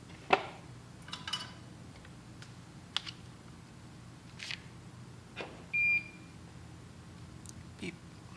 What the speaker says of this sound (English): Always be beeping.